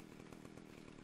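A chainsaw drones continuously in Ark: Survival Evolved, a buzzing, dense roar with rapid rhythmic pulsing, steady throughout and moderately loud.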